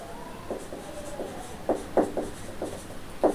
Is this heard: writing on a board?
yes